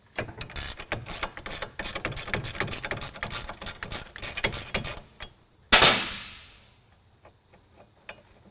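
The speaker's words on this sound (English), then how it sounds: "We're going to pull the brake caliper off." A ratchet wrench clicks rapidly as bolts come off an ATV brake caliper, a close, loud run of mechanical clicks for several seconds, then a sharp metallic clank that rings out and fades, followed by quiet.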